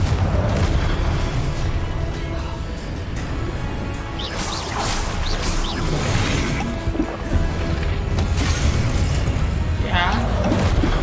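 Booming blasting-curse explosions and whooshing spell effects from the Hogwarts Legacy video game, loud and continuous with repeated crashes, with a voice calling out spell names over the game sound.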